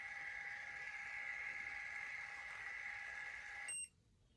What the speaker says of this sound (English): So it beeps when it stop,